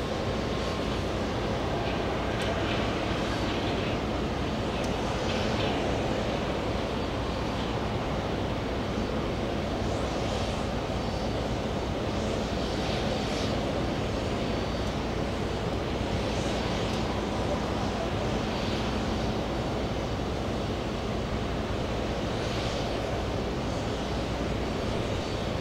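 A JetBlue airliner from Denver on approach to JFK airport, heard as a broad continuous engine roar mixed with wind noise, steady and fairly distant throughout.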